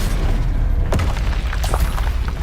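Bombardo explosion spell in Hogwarts Legacy, a single sharp, loud blast with a deep booming body, followed by crackling debris over a constant low rumble.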